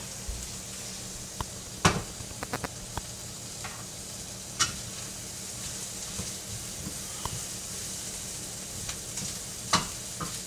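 Peppers, onions and garlic sizzle in butter and olive oil in a pan, a steady soft hiss punctuated by sharp clicks and scrapes of stirring utensils, close by.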